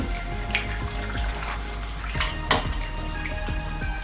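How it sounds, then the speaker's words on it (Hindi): Water splashes and pours into a sizzling pan of chicken do pyaza, with clinks of a utensil against the pot under steady bubbling. "अब मैं इसमें 1 गिलास के करीब पानी ऐड करती हूँ"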